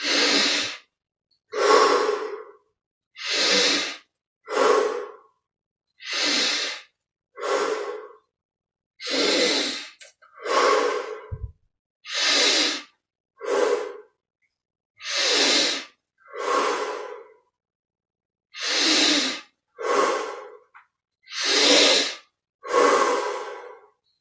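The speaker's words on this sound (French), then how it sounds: "Respiration profonde." Deep breathing during yoga exercises, heard as about fifteen loud, close inhale-exhale cycles in a steady slow rhythm, each breath a long airy rush with brief silent pauses between, and no talking.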